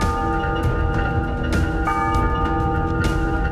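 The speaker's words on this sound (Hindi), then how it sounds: "कुछ ही देर में मंदिर की घंटियां सुनाई देने लगी" Temple bells ring at a shrine in Jawai, Rajasthan, a dense, continuous metallic clanging with sustained harmonic tones and repeated sharp strikes, loud and close, with no voices.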